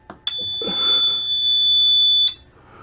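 A very loud fire alarm bell rings steadily for about two seconds during a building fire alarm test, then cuts off abruptly, heard alone at close range.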